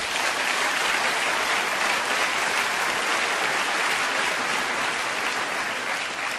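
An audience at an Italian television talk show fills the room with sustained, even applause, dense and loud throughout.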